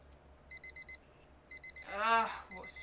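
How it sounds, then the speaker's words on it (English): A phone alarm in an indie video game beeps in quick bursts of four bright tones, repeating each second, with a voice briefly sounding between the bursts. "finally manage to grab it and turn off the alarm"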